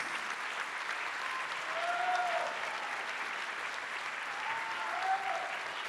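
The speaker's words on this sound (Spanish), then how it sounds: "la recibimos con un fuerte aplauso a Daniela Rodríguez." Audience at an evening singing-workshop anniversary event giving a speaker sustained, even applause, heard from within the hall at moderate loudness with a faint voice underneath.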